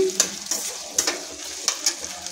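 Drumstick (moringa) pieces cooking in oil in a pan with softened tomatoes, a low sizzle under a few sharp clinks of a spoon stirring against the pan.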